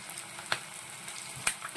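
Okra pieces coated in batter drop into hot oil and fry, giving a soft continuous sizzle broken by a few brief crackling bursts as pieces go in.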